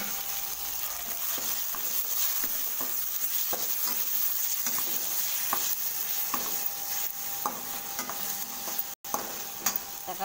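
Onion and a large tomato sauté for kuzhambu in a pan, with a continuous sizzle and repeated rhythmic scraping stirs of a spoon, close and steady, with no speech.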